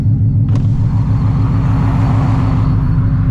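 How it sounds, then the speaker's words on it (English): A steady low engine drone from a Ford Shelby GT350 fills the clip, with a faint whining, squealing tone from the belt tensioner running above it and a brief click near the start. "You guys can hear my tensioner or whatever that is."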